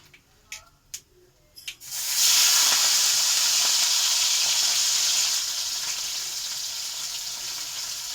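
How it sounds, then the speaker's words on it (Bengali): Shrimp and black cumin seeds hit hot oil in a pan, setting off a sudden loud, hissing sizzle that holds strong for a few seconds and then eases to a steady frying hiss, after a few sharp clinks at the start. "চিংড়ি মাছটা একটু লাল লাল করে ভাজা হবে।"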